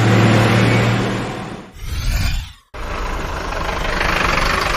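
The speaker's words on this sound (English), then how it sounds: "Bus." A bus engine idles loudly and close, with a brief swell and drop partway through before the steady rumble returns.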